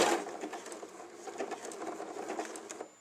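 An Elna Lotus sewing machine stitches steadily in a continuous mechanical whir with a light rapid patter throughout, ending abruptly as the auto-complete button finishes the seam; no one speaks.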